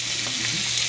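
Salmon fillet searing in a hot pan, giving an unbroken loud sizzle and crackle that stays close and steady throughout the second.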